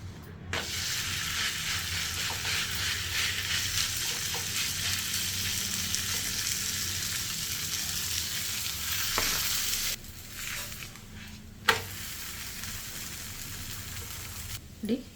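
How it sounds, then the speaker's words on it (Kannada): Akki rotti, a rice flatbread, cooking in oil on a pan with a loud continuous sizzle that dips briefly and is marked by a few sharp pops near the end. "ನಾನು ಇದಕ್ಕೆ ಸ್ವಲ್ಪ ಎಣ್ಣೆ ಹಾಕ್ಕೊತಾ ಇದ್ದೀನಿ."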